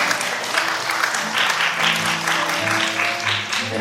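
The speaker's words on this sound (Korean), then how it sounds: "힘찬 박수로 환영해 주시기 바라겠습니다" Audience applause welcoming a contestant onto the stage at a Chungbuk youth FameLab science-talk final, steady clapping throughout at close range and fairly loud, with a few voices mixed in.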